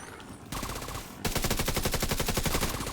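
The Division 2 gunfire rattles out as fast, evenly spaced automatic shots, first in a lighter stretch and then a louder sustained burst close to the listener.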